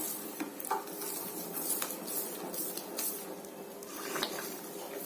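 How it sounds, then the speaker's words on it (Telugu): Milk being stirred into a sweet offering mixture for Ganesha in a pot, with soft scraping and clinks of a spoon against the metal, steady and close with no talk. "మిక్స్ చేసుకొని మంచిగా కలిపేసేయాలి."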